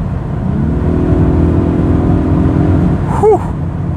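A Polestar 1 hybrid car accelerates hard, its steady, loud engine and electric-motor drone building evenly inside the cabin before a brief whine near the end.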